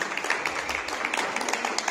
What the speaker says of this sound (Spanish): Y ese aplauso bien bonito nuevamente.